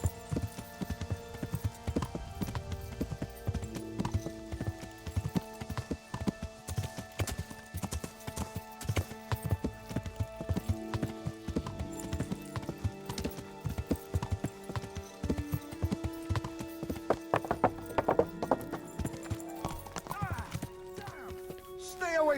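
Horse hooves clip-clop steadily in the video game Kingdom Come Deliverance, a rhythmic trotting patter close by, with game music tones and occasional voices mixed in.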